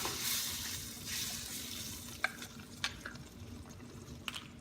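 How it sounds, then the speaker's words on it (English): Beef caldereta simmering in a pot, a faint steady bubbling hiss with a few soft clicks of a utensil against the vessel. "And then we're gonna let this simmer."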